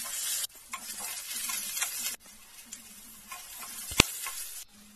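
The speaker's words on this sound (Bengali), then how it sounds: "সরষের তেল গরম হয়ে গেছে, এখন আমি আলুগুলো ভেজে নেব।" Steady crackling sizzle of potatoes frying in hot mustard oil, with scraping stirs and a sharp knock near the end.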